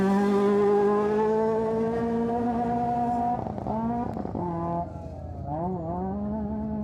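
A stadium buggy race car engine idling on a start line at an off-road racing event, a steady loud droning tone with a few sharp revs and blips near the end.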